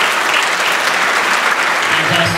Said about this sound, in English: So a big round of applause for all the seniors.